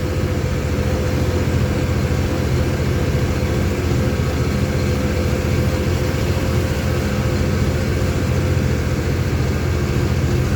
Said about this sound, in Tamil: வண்டி பார்த்தீங்கன்னா நம்மளை ஓவர்டேக் பண்ணி போகிற வண்டி ஆந்திரா வண்டி அது பத்து வீல்